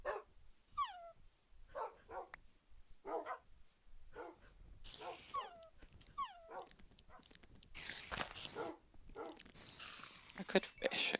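Minecraft dogs bark and yip in short repeated bursts across a farm-style game scene, fairly close, with soft game noises between barks and no speech over them.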